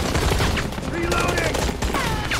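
Gunfire exchanged between US troops and Taliban fighters, dense bursts and rapid repeated shots rolling on continuously under a voice speaking throughout.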